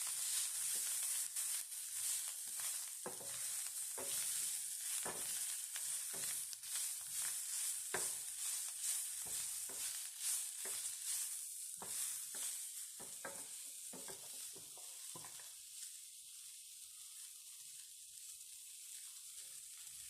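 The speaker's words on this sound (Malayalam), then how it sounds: "ഇതിന് പോലെ മീഡിയം ടു ലോ ഫ്ലെയിം വെച്ചിട്ട് നമുക്കിതൊന്ന് വഴറ്റിയെടുക്കണം." Mint leaves sauté in a pan over a medium-low flame, giving a steady soft sizzle broken by repeated scraping stirs that thin out toward the end, fairly faint and with no talking.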